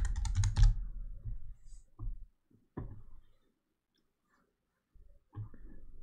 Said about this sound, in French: je vais juste taper